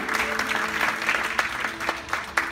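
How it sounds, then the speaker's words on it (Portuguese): A church congregation applauds during a sermon, a close wash of overlapping claps with a few sharper individual smacks standing out, and a faint voice beneath. "Aplauda o Senhor, Ele é digno."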